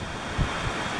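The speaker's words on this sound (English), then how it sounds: "It is a little windy." Steady January wind on Poteau Mountain rushes and buffets the microphone at a campsite, with a couple of brief low gusts thumping through the constant roar.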